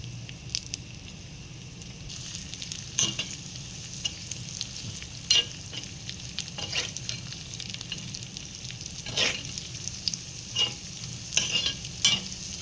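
Cloves, cashews and raisins frying in ghee make a soft, steady crackle and sizzle, broken by scattered clicks and scrapes of stirring in the pan.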